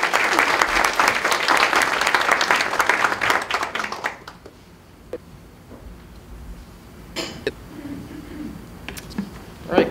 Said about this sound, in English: Big round of applause to our speakers